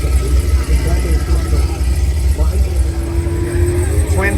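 A twin-turbo BMW M5 with intake, downpipe and nitrous modifications idles with a loud, steady low rumble at a drag racing and car show, with crowd noise around it.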